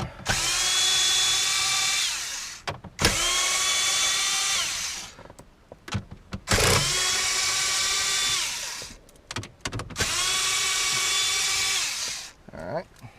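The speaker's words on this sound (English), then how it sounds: "I'm also going to use my drill for that and a adapter for my socket." Cordless power drill with a socket adapter backing out radio screws on a 2012 Ram 1500, four loud close whirring bursts of about two seconds each, separated by brief pauses and small clicks.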